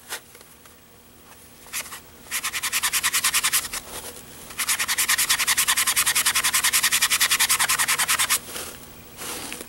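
A magic eraser scrubs a doll's painted face in quick, steady back-and-forth strokes, heard up close in two long rhythmic bursts with short pauses between.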